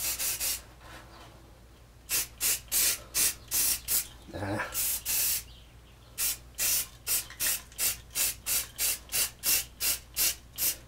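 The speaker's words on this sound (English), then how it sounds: "I think I can spray it right where it is." Short bursts from a spray can hiss onto a wooden address sign in a workshop, first a long continuous spray, then a steady rhythm of about twenty quick, close, evenly spaced puffs.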